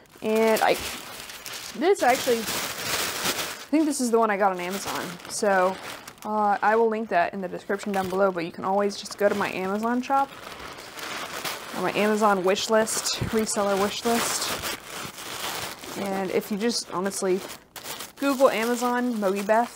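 Tissue paper for packing resale items crinkles and rustles in bursts beneath a woman's steady, close talking.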